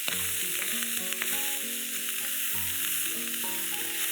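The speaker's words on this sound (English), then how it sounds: "It's been about a minute and the corn's starting to pop." Corn kernels sizzling in a hot pan, a steady loud fry with scattered pops and crackles, heard alone, with no voices.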